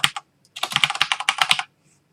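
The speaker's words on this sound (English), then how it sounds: "And then you just type in your address." Rapid keystrokes on a computer keyboard as an address is typed in, a brief tap pair then a dense run of clicks lasting about a second, close and clear with no talking.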